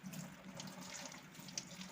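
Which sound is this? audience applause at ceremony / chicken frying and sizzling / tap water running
tap water running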